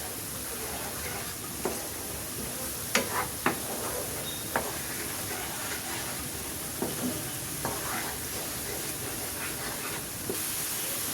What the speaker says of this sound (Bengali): দিয়ে এটাকে আমি ভালো করে ভুনা করে নিই।